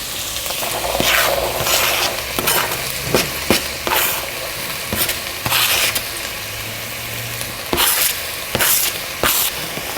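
Vegetables for red pepper soup sauté in a pan, a steady sizzle broken by repeated scraping and clattering stirs.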